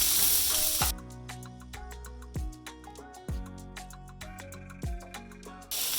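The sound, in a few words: salmon searing in a pan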